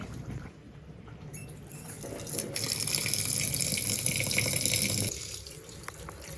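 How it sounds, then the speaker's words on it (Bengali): Running tap water pours over rice being washed in a sink, a steady close splashing rush that swells louder midway and then eases back, with no talking. "চাল ধোয়া প্রায় শেষ হয়ে গেছে"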